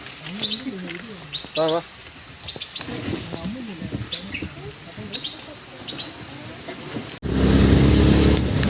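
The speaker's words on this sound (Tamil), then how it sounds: "அந்த குருவி வந்து அழகாக சவுண்டு கொடுக்க பாருங்களேன்" A small bird, a kuruvi, calls near a waterfall in the Valparai hills with short repeated chirps over steady rushing water, while someone speaks. A loud burst of wind or handling noise comes at the end.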